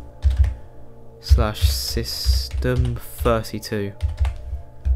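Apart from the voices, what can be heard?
typing on a computer keyboard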